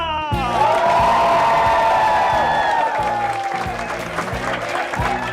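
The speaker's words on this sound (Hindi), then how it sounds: "तालियां।" A studio audience at a game show bursts into applause and cheering, with whoops over loud, sustained clapping. Bright musical tones ring out over the crowd, then fade as the applause carries on.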